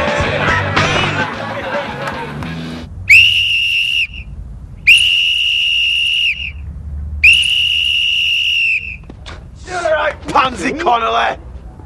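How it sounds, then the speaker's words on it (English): Three long, loud, shrill whistle blasts sound in succession, evenly spaced, at a sports training session. Voices and shouting come before and after the blasts. "Can you hear that whistle?"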